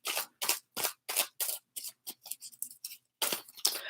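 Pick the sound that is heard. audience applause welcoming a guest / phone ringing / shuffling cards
shuffling cards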